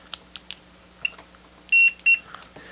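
A multimeter sounds two short, shrill electronic beeps in quick succession, close by and clear, among faint clicks and handling noises in a quiet room.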